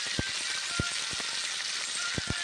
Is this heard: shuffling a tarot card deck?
no